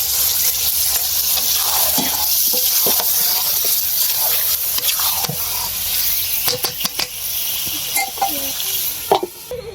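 Potatoes sizzle steadily in hot oil in a pan while being stirred, with sharp scraping clicks toward the end and brief talk in the background.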